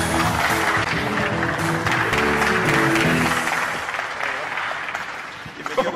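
Studio audience applause welcoming guests onto a Spanish-language TV show, a dense steady clatter of clapping with lively crowd noise and music-like tones underneath, tapering slightly near the end.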